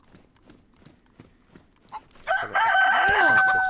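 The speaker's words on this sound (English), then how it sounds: "Very loud rooster." In DayZ, a rooster in winter Chernarus lets out one loud, long crow near the end, after several quiet clip-clop footsteps and a brief spoken word.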